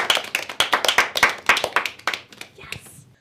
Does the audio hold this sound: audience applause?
yes